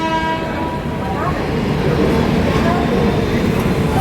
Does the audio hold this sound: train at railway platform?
yes